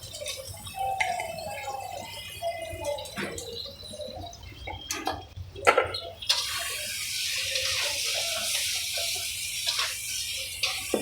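Water is poured into a pan of koi fish masala curry, first as scattered drips and splashes, then as a steady close rush of liquid hitting the simmering spices. No one talks.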